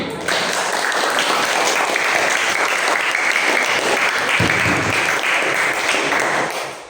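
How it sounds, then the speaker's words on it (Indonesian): A group claps together in sustained, dense applause that holds steady for several seconds before tapering off at the end. "boleh berikan tepuk tangan"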